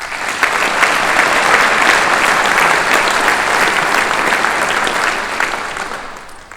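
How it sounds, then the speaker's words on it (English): Sustained audience applause fills a hall during a 2023 UMD Athletic Hall of Fame induction ceremony, a steady, loud wash of many hands clapping that swells quickly and tapers off near the end. "Please join me in a round of applause"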